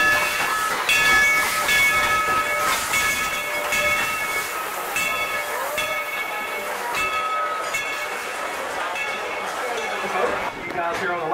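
The Dollywood Express steam locomotive, Engine 70 Cinderella, rumbles and hisses as it pulls out of the depot, with steady mechanical noise, high whistle-like tones and people talking in the background.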